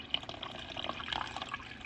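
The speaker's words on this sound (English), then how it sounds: "I'm going to bring the water up to the top" Water runs from a tap into a large pot for frying a turkey, a faint, close, steady splashing and trickling of filling liquid with no voices.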